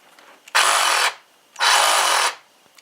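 A Ryobi PCL515B cordless reciprocating saw runs free in two bursts of about half a second each. It gives a loud, buzzing, close-up whir that starts and stops abruptly, with quiet between the bursts.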